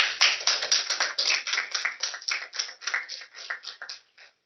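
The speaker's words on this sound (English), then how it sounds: "So let's give them a round of applause" A round of applause for graduating seniors at a student advisory council meeting, with steady, dense clapping from a small group that thins out and ends with a few final claps.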